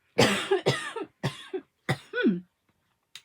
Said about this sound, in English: Oh, just coughing a bit.